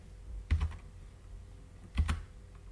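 Computer keyboard keys are pressed while working in the Duke Nukem Build level editor, two short bursts of a few clicky taps each about one and a half seconds apart, close and crisp against a quiet background.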